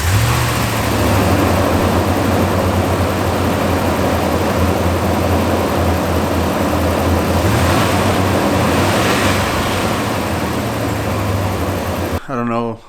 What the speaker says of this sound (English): But it's running, it's idling, so that's good.